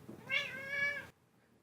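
A cat gives a single drawn-out meow, close and clear, lasting about a second, with no other sound around it.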